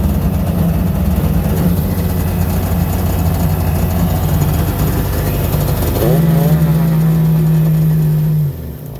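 A 2005 Sea-Doo GTI 717 jet ski engine idles out of the water, loud and steady with a droning low hum, then shifts pitch partway through before dropping off near the end; no talking.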